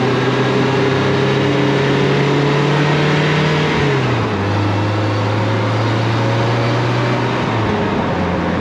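A 2020 Polaris Slingshot R engine pulls under gentle, steady throttle, its drone holding even, then dropping in pitch with a shift and climbing again, with wind rush underneath throughout.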